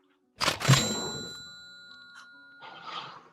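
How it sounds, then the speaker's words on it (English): A bell in a stage production rings with one bright struck tone that hangs and slowly fades, followed by a softer chime near the end. "Every time you hear a bell ring, that means some angels just got his"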